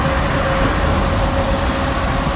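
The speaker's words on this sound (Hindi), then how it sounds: "ये ट्रैम चलती हुई आ रही है" A tram approaching on a city street in Serbia: a steady, loud rumble of rail and traffic noise with a faint sustained tone running throughout, no voices.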